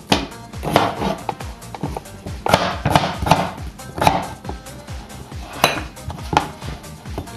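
Potatoes for a potato and egg hash are cut into pieces with a knife on a cutting board, giving a run of sharp, close chopping taps in an uneven rhythm, with no talking.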